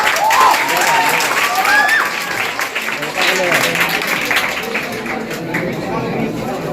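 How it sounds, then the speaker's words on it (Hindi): Sustained audience applause at a general knowledge competition event, many hands clapping steadily at full volume with crowd noise mixed in throughout. "तो एक बार जोरदार तालियां।"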